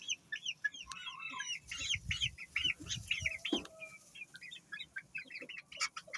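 Young Serama roosters cluck and chirp in short, scattered bursts, with several birds calling near and far over a quiet background.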